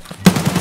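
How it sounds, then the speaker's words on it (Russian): Automatic weapon fire in the video game Escape from Tarkov: after a short quiet lead-in, a loud, rapid burst of shots rings out in an even rhythm. "О, выстрелы"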